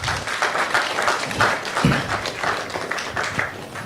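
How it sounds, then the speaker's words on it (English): A live studio audience at a reality show eviction broadcast claps for a contestant, a moderate, slightly uneven patter of many hands, close and continuous for a few seconds. "Can we clap for Stephen, please?"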